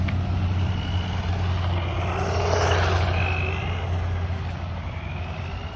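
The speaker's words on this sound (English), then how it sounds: "it is bogging down, running through the grass" Small brushed-motor DeeRC 9207E 1/10 scale four-wheel-drive RC truck straining as it bogs down driving through grass, a steady near whine and drone with a low hum running unbroken throughout.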